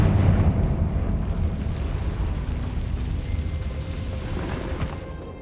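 A Confringo blasting spell in Hogwarts Legacy sets off a loud, booming explosion whose heavy rumble rolls on and slowly fades over several seconds, with no voices.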